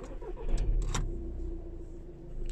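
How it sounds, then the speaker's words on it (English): A car engine cranks and catches after a brief key rattle, then settles into a steady low idle close by, with no talk over it. "after that you just start the car."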